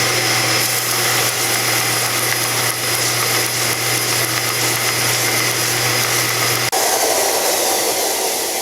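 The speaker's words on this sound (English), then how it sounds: "take this over to my belt sander, my stationary belt sander, and I'm going to flatten this side that was already relatively flat" A stationary belt sander runs with a steady, loud motor hum and abrasive whir while flattening a rosewood guitar part, the grinding continuing without pause before a sudden shift near the end as the work lifts off the belt.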